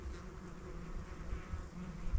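Bees swarm around active ants outdoors at Little Twin Lakes, making a continuous low droning buzz of many insects, fairly faint and steady, with no voices.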